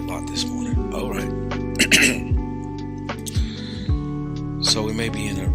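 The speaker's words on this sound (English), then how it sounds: "Man, I'm clearing my throat a lot this morning." Someone clears their throat several times in short, rough bursts over a steady low electronic hum.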